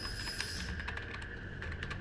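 Quick keystrokes on a computer keyboard as a command is entered in a Python Django project, about a dozen clicks in uneven bursts, close and fairly quiet over a steady low hum, with no talking.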